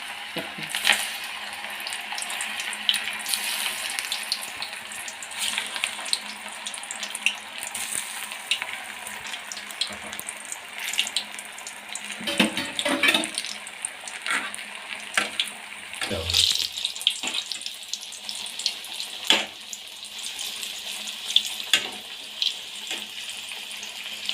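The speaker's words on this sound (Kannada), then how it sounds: "ಈ ರೀತಿ ಎಲ್ಲ ಉಂಡೆ ಮಾಡ್ಕೊಂಡ್ಮೇಲೆ ಎಣ್ಣೆಗೆ ಹಾಕಿ" Spinach veg kebab balls deep-frying in hot oil, a steady crackling sizzle with bursts of louder bubbling and occasional clinks, fairly close and without talk.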